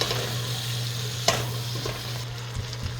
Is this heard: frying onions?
yes